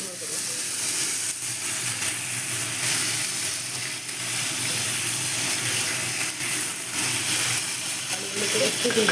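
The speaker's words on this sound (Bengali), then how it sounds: "একটু ভেজে নেবো" Potatoes frying in oil in a pan give a steady, close sizzle that runs unbroken the whole time, with faint stirring sounds now and then.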